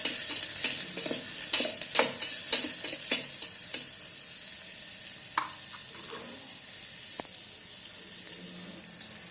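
Chilli chicken with garam masala is stirred inside an electric kettle, a steady run of close scraping and clattering strokes over a constant sizzle of frying.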